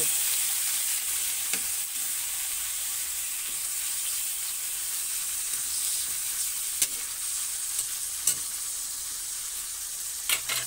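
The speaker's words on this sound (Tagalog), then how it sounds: "So, igigisa natin yung chicken natin." Chicken pieces sautéing in a pan for chicken curry give a steady, bright sizzle throughout, broken by a few faint clicks and taps from stirring.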